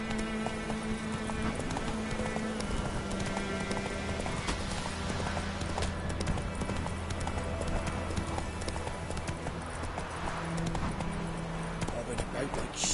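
Rhythmic clip-clop of hooves from Roach the horse galloping in The Witcher 3: Wild Hunt, steady and close, with game music droning underneath and someone talking over it.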